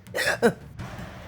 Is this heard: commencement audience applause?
no